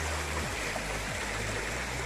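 Creek water runs steadily beside an old coal mine's remains, a continuous close rushing stream with no voices.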